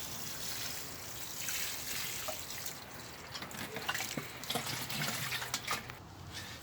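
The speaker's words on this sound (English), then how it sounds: "I'm just going to get a little bit of water on the container like that" Water splashes and trickles steadily into a container while old compost is being recycled. It comes through as a continuous, moderately faint pour at close range, with brief handling clatter toward the end.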